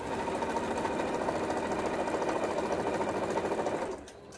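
A sewing machine runs continuously, stitching a quarter-inch seam along jelly roll fabric strips, with a close, steady, rapid mechanical whir that stops abruptly near the end.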